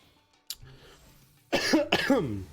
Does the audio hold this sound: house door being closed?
no